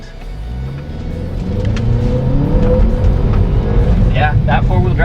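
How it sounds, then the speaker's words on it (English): A 2017 Ford Escape Titanium with four-wheel drive accelerating at full throttle on a dirt road, a loud steady engine rumble rising in pitch as it revs, heard from inside the cabin with tire and road noise. "I'm going to floor it."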